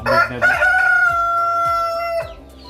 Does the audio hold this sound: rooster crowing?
yes